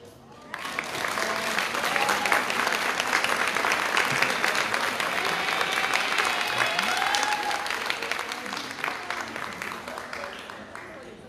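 Sustained audience applause at a university anniversary award ceremony in Zamora, Michoacán, as an honoree is recognized for 40 years; dense clapping swells, holds steady for several seconds, then tapers, with a few voices and cheers faintly underneath.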